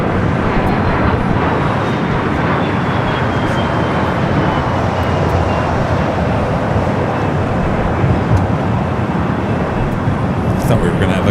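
A five-year-old Boeing 777 freighter arriving at Los Angeles International Airport produces a loud, sustained jet engine roar with broad rumbling noise that holds steady throughout.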